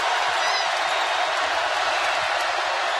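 An arena crowd at an Oklahoma college basketball game roars and applauds on its feet, a dense, continuous wall of cheering that holds steady and loud from start to finish.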